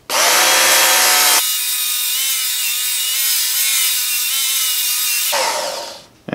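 A power tool smoothing the edges of a Tramontina 18-inch machete: a loud high whine that drops to a steadier grinding tone while working the steel, then rises again before spinning down.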